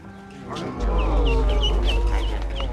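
A hen on her nest with chicks clucks softly and repeatedly in short chirpy bursts, close by, over a steady low hum.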